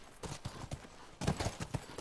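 Horses walk along in The Last of Us video game, their hooves giving soft, quiet clip-clops in an uneven, rhythmic patter.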